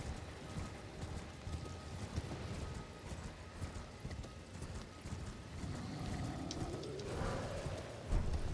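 A horse's hooves gallop in a steady clip-clop rhythm across open ground in the game Elden Ring, close and continuous, with a brief whinny-like rising sound near the end.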